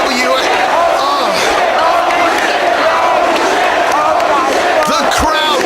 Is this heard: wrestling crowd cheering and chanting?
yes